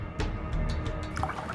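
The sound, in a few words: water poured into a drink to dilute it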